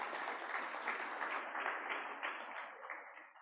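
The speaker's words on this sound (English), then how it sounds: "Let's give them a round of applause." Club meeting audience applauding members' birthdays, a room full of hands clapping at moderate distance, steady at first and then thinning out and fading toward the end.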